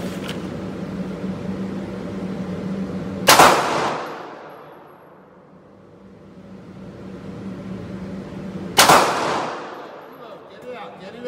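Two loud, sharp gunshots, a few seconds apart, ring out at an outdoor shooting range during a concealed carry firearms training class, each with a quick decaying echo over steady background hum.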